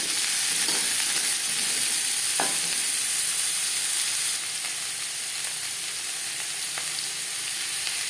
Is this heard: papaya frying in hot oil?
yes